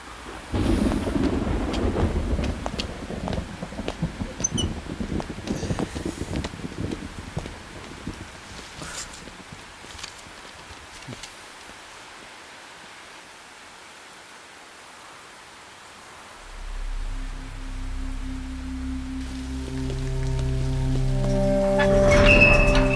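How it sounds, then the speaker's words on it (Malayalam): Heavy rain pours down in a steady hiss with low rumbles of thunder, loud at first and easing off, before a musical score swells in near the end. "നല്ല മഴ."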